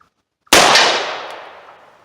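A single revolver shot fired at a metal tank target, one sudden loud crack followed by a ringing metallic decay that fades over about a second and a half, with no talking.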